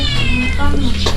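A cat meows loudly and close by in a drawn-out, wavering call that rises and falls, sitting over a steady low background hum.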